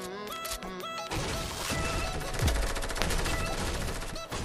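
Pump shotgun blasts in Fortnite gameplay, several loud booming shots amid busy game sound effects, with a few sharp bursts close together and no clear talk.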